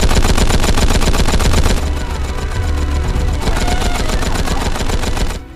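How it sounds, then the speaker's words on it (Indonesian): Loud, rapid continuous fire from a Gatling gun, a rattling stream of shots that rolls on for several seconds before stopping abruptly. "Omura memerintahkan pasukannya untuk menembaki mereka dengan senjata beruntun Gatling"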